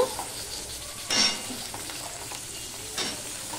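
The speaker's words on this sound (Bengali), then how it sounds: "এবার আমি বেগুন আর শিমটাও ভেজে নেব।" Eggplant and flat beans fry in a pan with a steady close sizzle, interrupted by two brief louder scrapes of a spatula stirring the vegetables.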